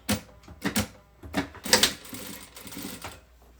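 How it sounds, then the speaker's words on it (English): A sewing machine stitches Ankara fabric in short close bursts of rapid mechanical clatter, starting and stopping several times. "Just stitch both sides and the down part."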